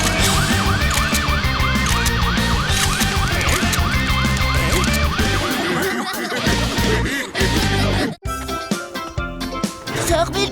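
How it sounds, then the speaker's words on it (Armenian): Cartoon fire truck siren wails in a rising and falling electronic sweep over busy animated music and effects, loud and continuous before giving way to other cartoon sounds. "Ահա, հրշեջները եկան, հիմա ամեն ինչ կհանգցնեն"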